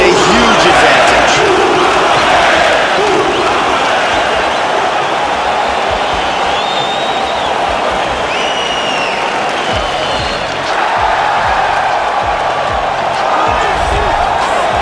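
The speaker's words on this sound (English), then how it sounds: "the crowd pops as this guy makes the walk to the octagon" An arena crowd in the UFC 3 video game roars steadily during a fighter's walkout to the octagon, a loud, sustained wash of cheering with a few sharp swells and thuds, alone without talk.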